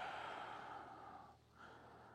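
Steady, close breathing in and out during an abdominal workout, a soft airy rush with a slight dip before the next breath, no words spoken.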